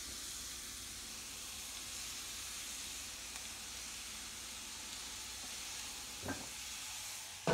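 Morel mushrooms sizzle quietly in heated butter, a soft continuous hiss and crackle close by, with a brief louder clatter near the end and no talk.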